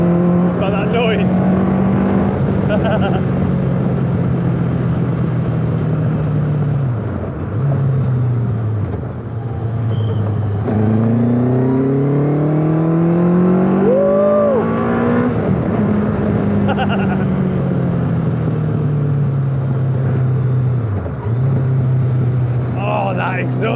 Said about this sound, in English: The sound from the carbureted engine is just brilliant.